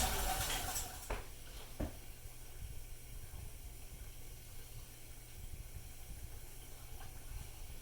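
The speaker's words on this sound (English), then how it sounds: "You can see it's just starting to come to a simmer right now." Velouté sauce, a roux-thickened sauce, coming to a simmer in a pan gives off a faint, steady steamy hiss, with a couple of soft clinks near the start.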